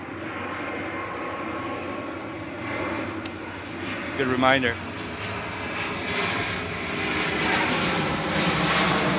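A fixed-wing airplane flies overhead, its engine drone a steady distant roar that swells slightly toward the end, with someone speaking briefly and a dog's short whine partway through.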